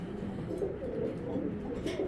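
Grebaz pigeons coo in soft, low, throaty murmurs, close and continuous for a couple of seconds, with no talking over them.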